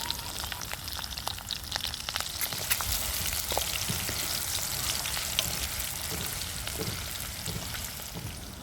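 Green chillies drop into hot oil already holding whole garam masala for a tempering, frying with a dense, steady sizzle and crackle that stays loud and even throughout, with no voices.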